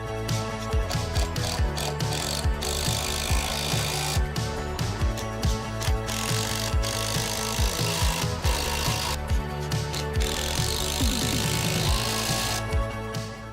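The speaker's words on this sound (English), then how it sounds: "offer it back up to your post and then screw in the screws" Screws are driven into a wooden fence post in a tool-heavy outdoor job, giving loud, continuous ratcheting, whirring mechanical noise with repeated short bursts and no talking.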